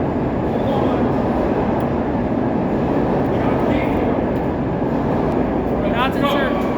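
SEPTA Broad Street Line subway train standing at a station, a steady loud rumble and hiss filling the platform, with a brief high wheel squeal near the end and faint voices nearby.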